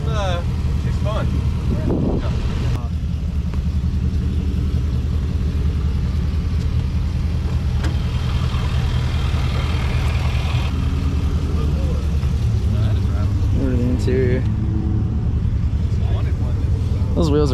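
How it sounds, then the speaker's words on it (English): A 2011 Jaguar with a supercharged 5.0 engine rumbling at a steady idle nearby, a deep continuous drone with a brief blip early on, while people talk over it. "It's a nice car, man. It sounds nasty."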